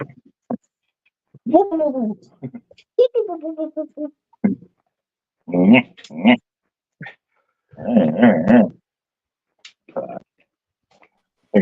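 A man imitates a dog's barking and growling in the manner of Curly from the Three Stooges, a string of voiced woofs, whines and growly yelps in short bursts close to the mic, mixed with some talk.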